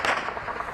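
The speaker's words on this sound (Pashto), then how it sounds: "د راکټ ډز و." A rocket fire blast in Afghanistan booms out as a sharp burst that rolls into a rough, rumbling decay, fairly loud, with no talk over it.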